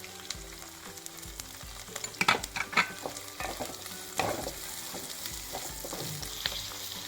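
Sliced onion with salt sautés in a pan for gobi manchurian, a soft steady sizzle broken by clinking, scraping stirs of a spoon, loudest in a short burst midway.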